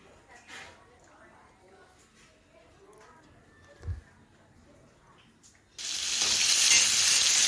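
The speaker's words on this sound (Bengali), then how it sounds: "পটল ভাজা চাপিয়েছি একদিকে" Faint, sparse kitchen sounds give way to a sudden loud, continuous sizzle of pointed gourd frying in hot oil in a pan, close and steady.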